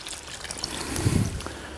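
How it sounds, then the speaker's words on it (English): Fluid poured out of a threaded pan into a tub: a short, steady trickling stream that swells briefly in the middle, close by and alone. "Let's pour it out right into this tub."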